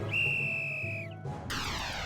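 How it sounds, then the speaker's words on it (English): A sustained, piercing whistle blast from Ciconia When They Cry rings for about a second and tails off, followed by a burst of noise and a bright airy hum, with no voices. "The whistle blew again"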